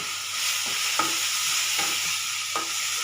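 Ginger garlic paste sautéing in a pan for a chicken leg curry, a soft continuous sizzle with several scraping stirs of a spoon spaced through it.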